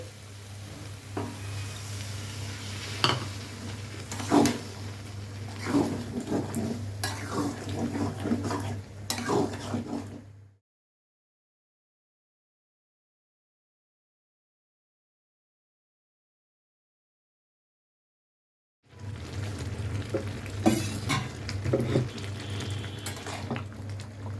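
Kochur loti (taro stolon) curry sizzles and bubbles in a pan as water goes in and the mixture is stirred, with clattering utensil scrapes over a steady low hum, then a long silent gap before the frying noise resumes.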